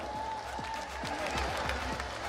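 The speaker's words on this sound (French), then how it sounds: "Maître Apacho Vincent, qu'on applaudit très fort, s'il vous plaît." Audience applause for the justice commissioner at a live Wozo vacances elimination-round contest, a steady wash of clapping with crowd murmur and a sustained tone underneath, lasting a couple of seconds.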